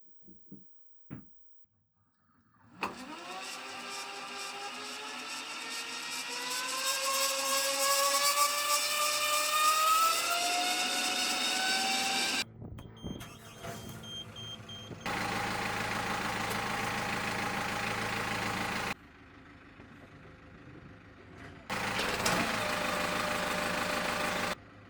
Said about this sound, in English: the engine can run in gear without spinning the propeller